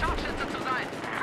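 Battlefield 4 multiplayer gunfire crackles in short bursts beneath a voice talking over it throughout.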